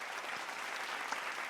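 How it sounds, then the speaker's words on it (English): An audience applauds Essence Atkins with a steady, dense round of clapping throughout, fairly close and alone without talk. "Thank you for the round of applause."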